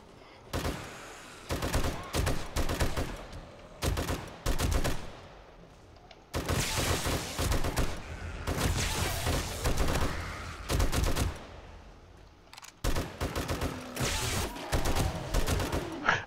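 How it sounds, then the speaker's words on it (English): Automatic turrets in the game 7 Days to Die fire in rapid bursts during a Blood Moon horde night, dense rattling volleys separated by brief pauses, close and loud with no talking. "I'm used to those turrets being much louder."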